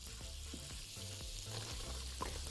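Onion frying in melted butter and oil in a pan, a faint, even sizzle with a low hum and a few light knocks, heard close up and quietly with no speech.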